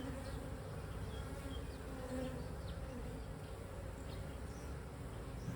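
Honeybees drone in a steady, close buzz while a beehive is opened for inspection of brood frames, with individual bees whizzing past over the constant hum.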